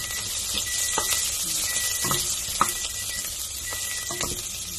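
Chicken and vegetables sautéing in a pan for chicken pochero, a steady loud sizzle with intermittent stirring clacks and scrapes throughout.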